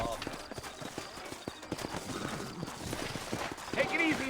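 Horse hooves clip-clop steadily in Red Dead Redemption as a rider moves through a frontier town, a brisk even trot close by with light ambient noise and a brief voice near the end.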